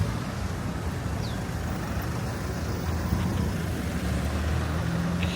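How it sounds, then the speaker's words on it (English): Busy road traffic passes through a town near shops between Brunei and Miri, Sarawak, with many cars making a steady, broad rumble of engines and tyres, fairly near and continuous, with no voices. "A lot of cars around here."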